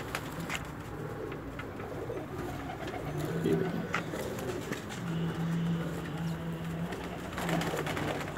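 Golden pigeons on a rooftop give repeated low, throaty coos against steady outdoor background noise, the calls close and fairly clear.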